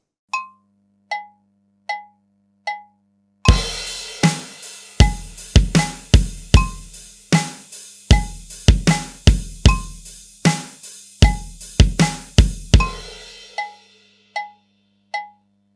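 A drum groove: steady eighth-note hi-hat ticks with snare and bass hits, opening with sparse taps before a crash on the one brings in the full beat, then thinning out.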